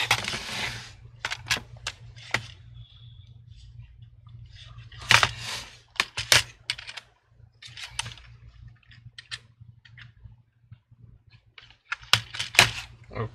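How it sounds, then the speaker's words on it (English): Laptop keyboard keys tapped in scattered bursts to type a sign-in, close and fairly quiet, with a low steady hum underneath and clusters of clicks between pauses. "Right now I just have to use the keyboard"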